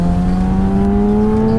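A 2017 Kawasaki ZX10R sport bike with a quick shifter holds a loud, close, steady high engine whine whose pitch climbs smoothly and continuously, with no talking over it.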